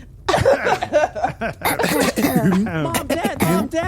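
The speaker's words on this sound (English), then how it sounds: "Quick, everyone cough so she doesn't feel self-conscious." Several people cough in quick succession, overlapping and close by, mixed with some laughter and chatter.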